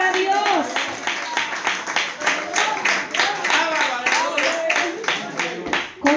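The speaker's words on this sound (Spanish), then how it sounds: "debe ser aplauso fuerte si es para Dios" Congregation in a church service claps in a strong, regular rhythm, a string of sharp beats going on under a preacher's voice and worship noise.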